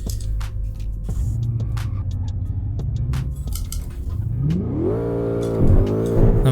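A BMW M5 F10 V8 engine in the Assetto Corsa racing game rumbles steadily, then revs up sharply to a loud, rising howl that holds near the top, with faint clinking ticks scattered over it.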